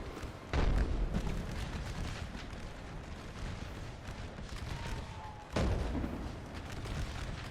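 Artillery fire in an American Civil War strategy game, two deep booming cannon blasts a few seconds apart over a steady rumbling battlefield din, fairly distant and muffled.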